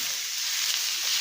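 Meat frying in a pan with garlic and onions, giving a steady, close hiss of sizzling oil that runs without pause and swells slightly toward the end, with no talking.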